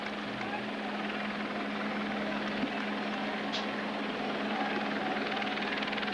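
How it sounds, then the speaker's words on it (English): A helicopter hovers over a baseball stadium during an October 2004 playoff game between the Angels and Red Sox at Fenway Park in Boston, giving a steady, continuous rotor and engine drone with crowd ambience throughout. "We had helicopters and blimps hovering overhead"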